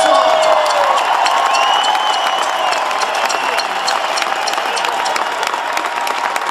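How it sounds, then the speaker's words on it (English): A live audience bursts into sustained applause with scattered cheers and whoops, a dense steady wash of clapping that holds at full volume throughout. "Let's give him a big round of applause for that."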